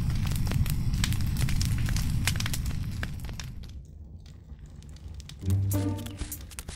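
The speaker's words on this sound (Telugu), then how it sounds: "అన్ని చెట్లు కాలిపోయాయి" Trees burning in an outdoor blaze give a dense, steady crackle and roar that stays loud, eases off midway, then swells briefly again near the end, with no talking.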